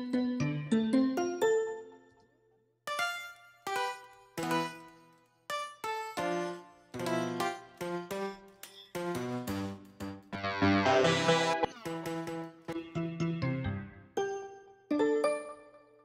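Bell-like synth tones from the Lead Architect instrument in Studio One 6.6 play a series of bright, ringing notes and chords with clear decays and short gaps, one denser shimmering passage in the middle, heard alone without talk.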